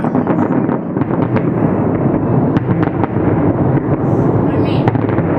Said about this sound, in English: You said that we might be all looking at the fountains and the fireworks.